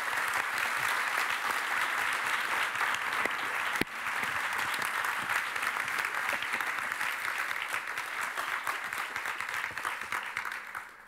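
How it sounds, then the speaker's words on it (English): Sustained audience applause fills a hall at a closing plenary session in Brussels, a broad even roar of clapping hands that holds steady for about eleven seconds and eases slightly near the end. "And let's give them a round of applause, and I'll get you a reward."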